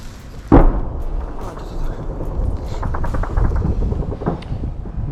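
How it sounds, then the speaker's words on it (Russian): A sharp distant mortar shot booms out, followed by a rumbling echo and faint crackling outdoor noise on a battlefield; no speech is heard. "Три хороших выстрела миномета."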